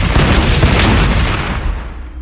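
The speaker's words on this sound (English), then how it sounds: "Alright, now try the twin-linked auto cannon." A twin-linked autocannon firing in the Warhammer 40K Sanctus Reach video game, a loud, dense booming blast that fills the whole clip and then slowly fades.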